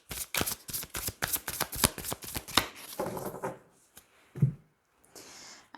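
Oracle cards shuffled and drawn: a rapid run of close, crisp riffling snaps, then slower scattered slides and taps as individual cards are pulled and laid down, with no voices.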